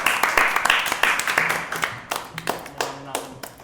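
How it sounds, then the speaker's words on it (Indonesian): A small group claps at an Indonesian talk-show taping, a brisk burst of hand claps that thins out into scattered claps, with voices murmuring beneath. "Tepuk tangan dong."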